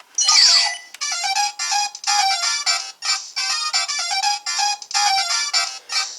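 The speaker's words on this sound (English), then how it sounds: "when you press this button, it'll activate the ringtone." An electronic Den-O toy belt plays a bright, chirpy ringtone melody in short repeated bursts, preceded by a quick descending zap, loud and close.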